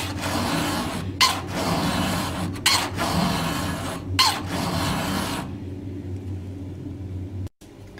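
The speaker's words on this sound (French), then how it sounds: "on n'a plus qu'à pousser la lime vers le bas" A flat file rasps across a chainsaw chain tooth in repeated strokes, a steady close-up scraping over a low background rumble that stops near the end.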